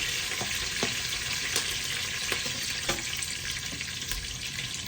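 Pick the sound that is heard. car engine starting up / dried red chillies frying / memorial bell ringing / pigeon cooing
dried red chillies frying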